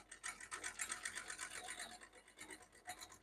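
A 3-thread overlocker sewing machine runs steadily, its rapid mechanical stitching chatter pulsing continuously and faintly with no talk.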